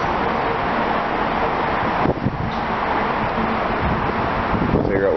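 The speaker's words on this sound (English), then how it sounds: "It's pretty windy." Continuous broadband wind rumble buffeting the microphone in San Francisco, steady and fairly loud, with faint background noise and no clear speech.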